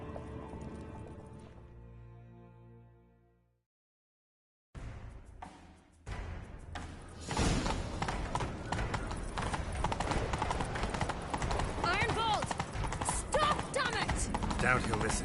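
After a fading musical tone and a short silence, rapid clip-clop hoofbeats start up and grow loud and dense, a galloping rhythm with scattered clatter.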